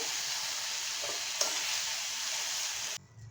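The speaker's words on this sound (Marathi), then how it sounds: "परत मी कढईमध्ये तेल ओतलेलं आहे आता आपल्याला या भाज्या सॉटे करूया" Vegetables sizzle steadily in hot oil in a kadhai for a mixed vegetable curry, a loud close hiss with a faint stirring clink, cutting off abruptly after about three seconds.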